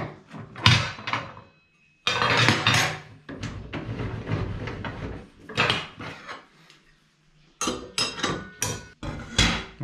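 Irregular metallic clanks, knocks and rattles come from a Bosch GTS 635-216 table saw as its blade is swapped for an 80-tooth multi-material disc, with short quiet gaps between handling sounds.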